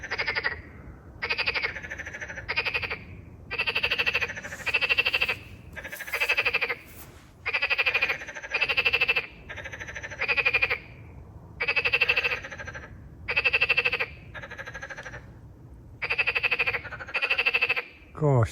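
Pond frogs call back and forth in a steady rhythm of repeated croaking bursts, about a dozen loud, close choruses separated by short gaps, with no talking over them.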